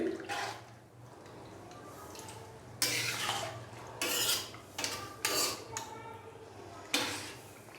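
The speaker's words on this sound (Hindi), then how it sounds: "पानी डालने के बाद इसको अच्छे से मिक्स कर देंगे।" A spoon stirring mutton and water in a karahi pot, with repeated loud clanks and scrapes against the metal and sloshing liquid between them.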